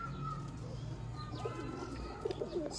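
Sialkoti black-faced champion pigeons coo in a few soft, rolling calls against steady low background noise, with faint chirps scattered around them.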